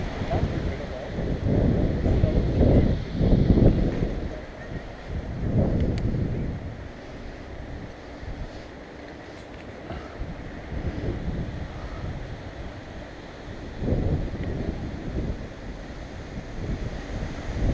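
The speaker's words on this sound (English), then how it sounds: "You don't need to pedal when you've got a tailwind this strong." A strong tailwind blows while cycling, buffeting the microphone in heavy gusts with loud bursts early on and again near the end, while a voice talks at times.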